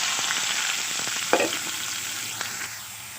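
Sliced onions and cumin frying in oil in a kadai, a steady close sizzle with light scraping stirs and a couple of sharper clinks, no talking.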